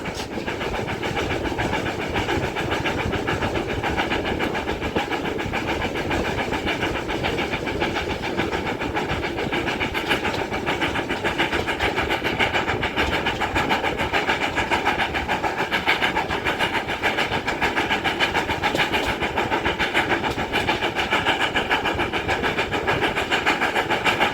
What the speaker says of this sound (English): 7828 on the Manor on the West Somerset Railway. Closing in on Washford.